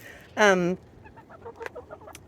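Salmon Faverolles chickens in a deep-litter coop let out one loud, drawn-out squawk, followed by a scatter of quieter clucks and scratching sounds.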